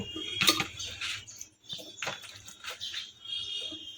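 Potatoes and water tipped into a pressure cooker for Bengali aloor ghugni, heard as a sharp metallic clatter of pots followed by several softer knocks and scraping bursts of handling, fairly close.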